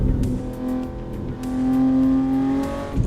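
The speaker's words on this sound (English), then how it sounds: "This BMW here, it sounds like a real car, but it's electric." A BMW electric car in a driving simulator game gives off a synthetic engine-like whine that holds steady, then rises and sustains as it accelerates, loud and close, with no talking over it.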